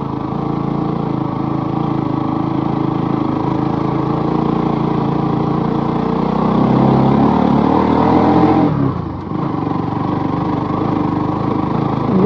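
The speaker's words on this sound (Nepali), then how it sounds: "बाइक ओभरहिट भइसक्यो।" A motorbike engine, overheated, labours up a steep rough hill road near Pharping, droning loud and steady with a slight rise in revs and a short dip near the end, and no voices.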